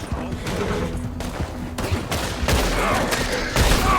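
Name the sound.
gunfire from the video game Red Dead Redemption 2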